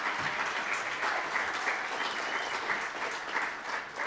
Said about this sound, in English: Round of applause for our presenters.